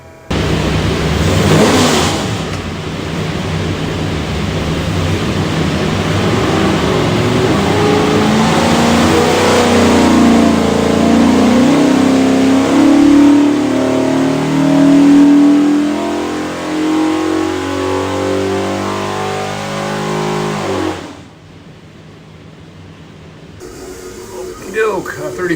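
A 427ci Ford engine for a '69 Mustang on a dyno, loudly revving up through a long sustained pull, pitch climbing for about twenty seconds before cutting off sharply, voices briefly around the start and end.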